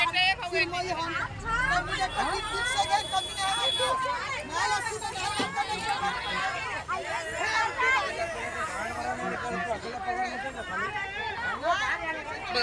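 Dense crowd chatter fills the busy Bhaucha Dhakka wholesale fish market in Mumbai: many overlapping voices, constant and close, with traffic-like rumble underneath and no pause across the stretch.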